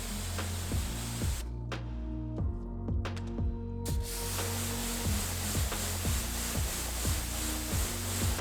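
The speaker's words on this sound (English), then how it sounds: "we'll give the wheels a liberal spray with more Aqua Seal to help those wheels stay cleaner for longer" Aqua Seal is sprayed liberally onto the wheels of a BMW 530i during a maintenance wash, a steady close hiss that pauses briefly and resumes, over a constant low rhythmic machine hum.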